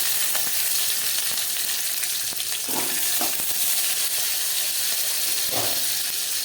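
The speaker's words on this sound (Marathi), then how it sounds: "तेल तापलं आहे. त्यामध्ये टाकू आपण लसूण, कढीपत्ता, त्यामध्ये टाकू आपण मिरची." Garlic, curry leaves and green chillies hit hot oil in a pan and set off a loud, continuous crackling sizzle. Sharper pops and spatters burst out now and then, and no one speaks.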